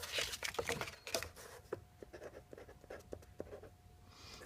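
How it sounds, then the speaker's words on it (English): Pen writing numbers on a piece of paper at a coin ring making bench, a run of quiet scratchy strokes with short taps and pauses, close and soft. "you're going to write down on your piece of paper"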